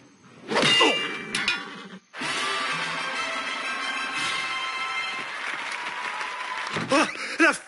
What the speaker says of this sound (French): Oh, la foule est en délire.